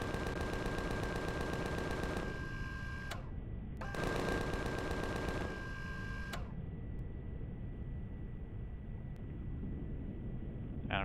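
Enemy rockets fire in the space survival game Empyrion, heard as two rapid, loud bursts of rattling shots, each lasting a couple of seconds and separated by a short gap, followed by a quieter hum.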